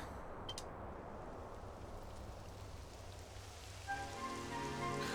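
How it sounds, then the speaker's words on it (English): Steady rain in Dragon Quest 11 patters densely on a surface, a soft continuous hiss, joined near the end by a low tonal hum. "It would have to go and start raining, wouldn't it?"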